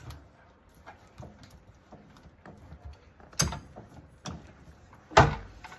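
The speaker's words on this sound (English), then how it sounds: "And when the door is closed, you'll hear a click." Pure Flow dialysis machine door shutting with a sharp, close click, followed a couple of seconds later by a second louder click-thud, with quieter handling noises between them in a calm room.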